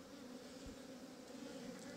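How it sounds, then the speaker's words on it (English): A dense, steady drone of honeybees hums around a horizontal hive after being shaken in. The buzzing is continuous and close, with no voices. "The bees that we've shaken in are behaving quite peaceably."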